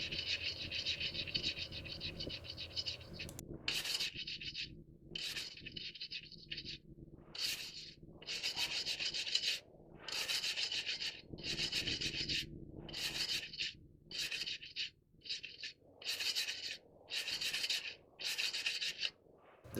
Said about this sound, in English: Now I like to clean off some of that rust that was causing the rotor to stick onto the hub.